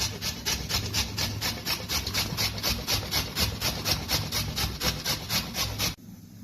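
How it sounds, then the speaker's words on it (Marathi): Raw green mango rubbed against a kitchen grater in steady back-and-forth strokes, a close, rhythmic rasping scrape about three strokes a second that stops abruptly near the end, with no talking. "त्याला आता मी 1 कैरी किसून घेते सगळी"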